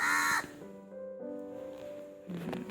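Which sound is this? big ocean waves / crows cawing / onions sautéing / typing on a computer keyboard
crows cawing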